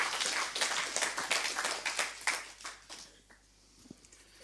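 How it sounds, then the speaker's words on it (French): Audience applause at a French national veterans' association ceremony honoring the national president: dense, loud clapping from a crowd that thins out and fades to scattered claps before stopping. "Vous pouvez bien sûr applaudir le président."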